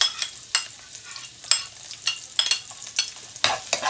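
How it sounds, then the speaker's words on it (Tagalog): Cooking oil sizzles steadily in a pan, with a run of sharp scraping or tapping strokes recurring every half second or so, close and fairly loud with no talk. "para makita yung sit-sirit-sit talaga ng mantika"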